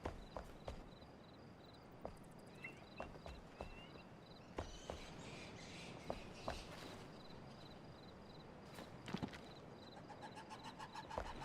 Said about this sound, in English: These are all bird noises,